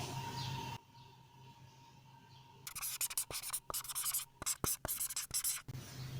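Pen writing out a math solution in close scratchy strokes, broken by short pauses, after a stretch of quieter room sound and some faint background noise.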